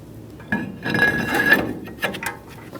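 Metal brake rotor on a 2015-2020 Ford F-150 front hub, a few clanks and scraping clinks up close with a faint metallic ring as it slides into place.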